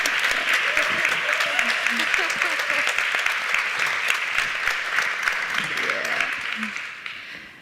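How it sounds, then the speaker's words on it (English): Audience at a Singeli music festival talk clapping steadily for a Tanzanian female DJ, a dense, even roar of applause lasting several seconds before tapering off, with a voice speaking over it. "Come on, where's the claps?"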